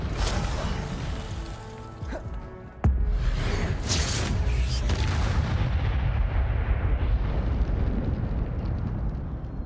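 Incendio fire spell cast in the video game Hogwarts Legacy, a sudden loud burst followed by a sustained roaring, crackling blaze that slowly fades.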